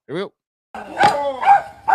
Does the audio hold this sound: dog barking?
yes